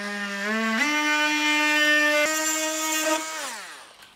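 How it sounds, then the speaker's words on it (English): An oscillating multi-tool trims the sealed end of a plastic rain gutter, giving a loud, steady buzzing whine for about four seconds that steps up in pitch early on and winds down at the end. "I actually think a multi-tool is probably the best tool for this job."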